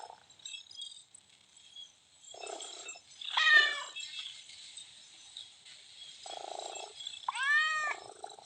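A video game cat purrs softly and meows a couple of times with rising chirpy tones, fairly faint, no talking.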